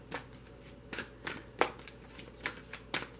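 Tarot cards being shuffled by hand, a run of soft riffling snaps and slides at an uneven rhythm, close and fairly quiet with no talking.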